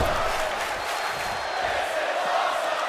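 A wrestling arena crowd at WWE Survivor Series roars steadily during the Intercontinental Championship match between Gunther and The Miz. The dense, loud wash of cheering and shouting continues without a break.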